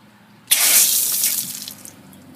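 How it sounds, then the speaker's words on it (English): Water gushes out of an RV trailer's opened low point drain outdoors, a sudden loud splashing onset that holds steady, then slowly tapers off, with no talk. "Open up our low point drains."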